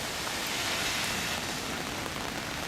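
Steady rain falling outdoors near a monument in the Catskills, New York, heard as a dense, even hiss of drops that stays constant throughout with no voices.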